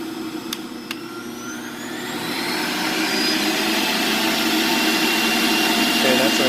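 A Breville 800JEXL Juice Fountain Elite juicer motor spins up from low to high speed, its steady whirring hum rising in pitch and growing louder before holding a constant roar.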